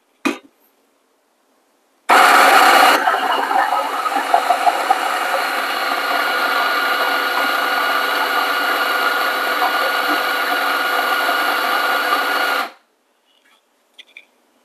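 A Fiorenzato Allground coffee grinder grinds beans for about ten seconds, a loud, steady whirring drone close by that starts abruptly and stops cleanly, with a brief click before it and faint taps afterward.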